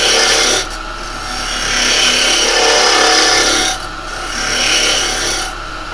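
A carbide tool scrapes against a spinning piece of hard zebrano wood on a lathe, giving a loud, close rasping in three long passes separated by brief lifts of the tool.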